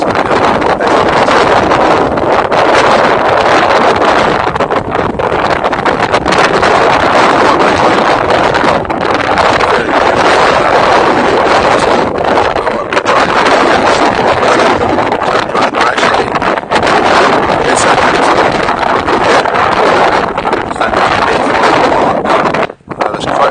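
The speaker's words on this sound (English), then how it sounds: "Strong wind blowing, so there might be quite a lot of noise on the video." Strong wind buffets the microphone in a continuous, loud roar with gusty fluctuations throughout, and no voices are heard.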